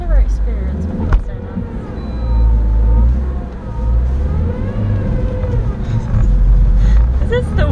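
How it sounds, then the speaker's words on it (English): A front-wheel-drive car spins reverse donuts, its engine droning and rising and falling in pitch under the steady chatter of people talking inside. "We are doing donuts. Reverse."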